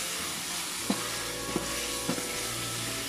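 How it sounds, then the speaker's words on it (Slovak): Goulash simmering in a pot at an outdoor goulash party, with a steady low sizzle and bubbling broken by three soft knocks of a spoon being stirred through it; no voices. "guláš sa nám varí, ja to premiešam"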